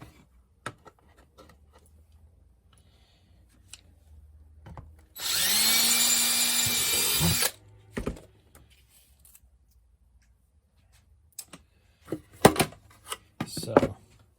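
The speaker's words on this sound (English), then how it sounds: "drill a pilot hole on each side." A power drill boring a pilot hole into a small wooden chest box build, one loud continuous whir lasting about two seconds, surrounded by quiet handling clicks and taps before and after.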